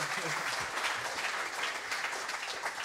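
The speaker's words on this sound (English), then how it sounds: "Oh, round of applause." A live podcast audience breaks into applause, a steady, dense wash of many hands clapping throughout, with faint voices mixed in underneath.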